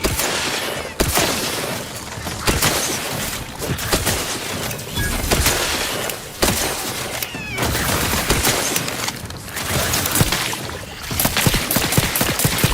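Sustained gunfire rattles through a combat encounter in The Outer Worlds 2, dense bursts and volleys overlapping continuously at high, steady loudness with sharp impacts scattered throughout.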